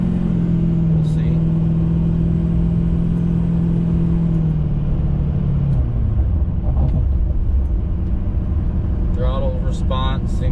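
A truck engine with a newly installed DSP5 switch pulls steadily on a test drive, its low rumble holding near and loud before the pitch drops around the middle as the revs shift, then it keeps droning on.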